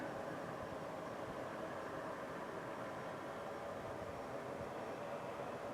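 A large truck rolls past near a river house, a steady, loud broadband rumble with a roar so continuous it resembles an approaching train, sustained throughout with no voices.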